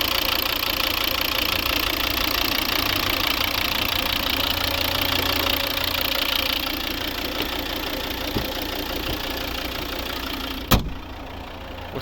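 A 2011 Volvo V60 2.0 D4 five-cylinder diesel engine idles steadily with a rough, knocking rhythm, close up, then quietens slightly before a sharp click near the end.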